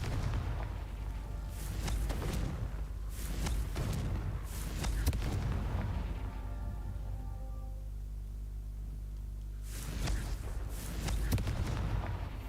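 Repeated fire spell blasts from Confringo in Hogwarts Legacy, a series of loud booming bursts at irregular intervals over a steady low rumble, with a quieter gap midway.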